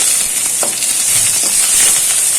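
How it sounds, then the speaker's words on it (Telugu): Curry leaves fry in hot oil for a brinjal and egg curry, making a loud, continuous sizzling hiss that stays even throughout, with faint stirring sounds underneath. "వీటిని కూడా బాగా ఫ్రై చేసుకోవాలి"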